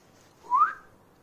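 A single short whistle from a person calling a pet dog, rising briefly in pitch, heard alone in a quiet room.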